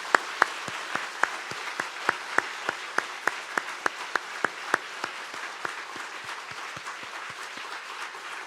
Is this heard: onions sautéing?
no